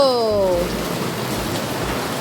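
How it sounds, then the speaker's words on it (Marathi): Heavy monsoon rain falls during a walk in Badlapur as a steady, even hiss throughout. A brief falling tone is heard at the start. "पावसाचा आवाज खूप आहे"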